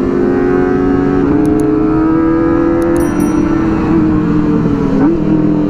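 Kawasaki ZX25R sport bike accelerating hard on a winding mountain road, a loud, continuous high-pitched inline-four engine whine close to the rider, rising and shifting through gears with brief pitch drops and wind noise.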